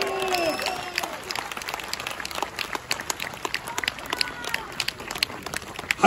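Concert audience at a live jazz-fusion band show claps for the band members, scattered sharp claps rising and falling with some speech over the top and a louder burst at the very end.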